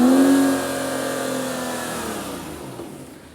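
Aston Martin Vanquish engine pushed to full throttle, a loud close rev whose strong tone peaks at the start and then slowly winds down, with no voices.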